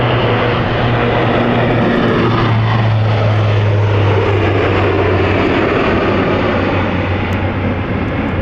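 Dash 8 turboprop airliner at London City Airport, a loud continuous propeller drone with steady low engine tones filling the whole stretch, close and unbroken.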